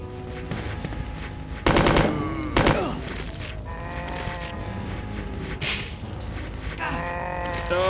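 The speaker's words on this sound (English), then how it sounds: "I got a fucking machine gun." Machine gun fire in a PS1 video game, rapid loud bursts cutting through tonal game music and effects, with a second shorter burst soon after the first.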